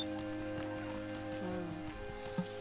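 Soft rain patters continuously in a cozy fantasy video game, faint and even beneath a quiet tonal game soundscape, with scattered light droplet ticks and no voices.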